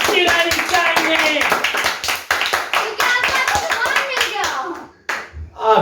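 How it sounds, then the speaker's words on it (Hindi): An audience claps during a lighthearted quiz-show style game, loud rhythmic clapping mixed with overlapping voices and chatter, fading briefly near the end before resuming. "हमें तालियां बजती रहनी चाहिए"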